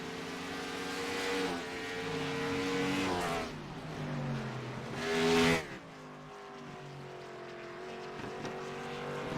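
A stock race car runs a lap on a track, its engine droning loud and steady through upshifts, with revs rising and falling and a surging pass mid-lap, heard alone without talk.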